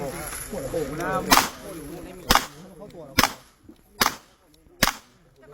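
Five sharp, loud gunshots fired at a bulletproof plate, spaced roughly a second apart, with voices murmuring faintly underneath between the shots.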